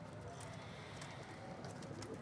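Pigeons coo softly on a rooftop, half-buried in a steady wash of outdoor noise.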